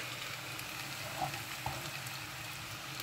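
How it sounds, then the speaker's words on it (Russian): Potatoes frying in a pan toward a golden crust: a steady, soft sizzling hiss with a couple of small pops, faint and even throughout, with no talking. "Будет жариться до золотистой румяной корочки."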